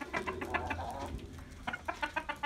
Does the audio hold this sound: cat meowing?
no